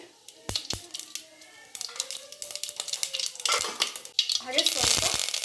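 Mustard seeds and cumin hit hot oil with a few sharp clinks, then a rising crackle and sizzle builds and intensifies toward the end, with spoon clatter and a voice speaking over it.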